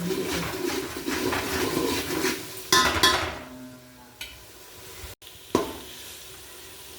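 Ginger and garlic fry in a pan, a steady close sizzle broken by scraping stirs and a few clinks of the utensil against the pan, with no talking.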